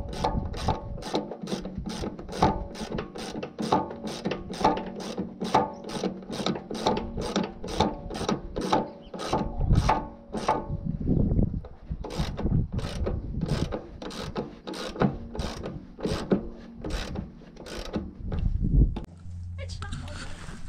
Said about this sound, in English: just altered the ratchet so it's going the other way. So instead of loosening the bolt,